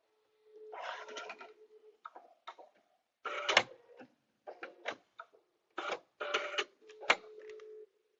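A sewing machine stitches quilted placemat pieces in short bursts of rapid mechanical whirring separated by brief pauses, close and fairly quiet.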